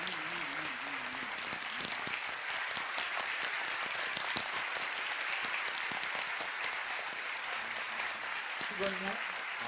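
Students and audience clapping at a public calligraphy class, a steady, fairly faint round of applause lasting several seconds with some voices underneath.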